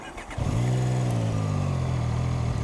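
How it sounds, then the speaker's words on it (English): A Zontes 703RR motorcycle, a 2025 model, cranks briefly and fires up, then settles into a steady, close, throbbing idle. "So here we go. We start it up."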